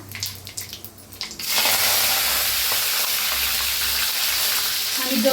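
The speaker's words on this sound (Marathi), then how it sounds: "आता तेल चांगलं तापलेलं आहे, त्याच्यात टाकायचा अर्धा चमचा मोहरी, अर्धा चमचा जिरं" Mustard seeds, cumin and asafoetida are dropped into well-heated oil for a gavar bhaji tempering. A quiet moment gives way to a sudden, loud, continuous sizzle and crackle that holds steady to the end.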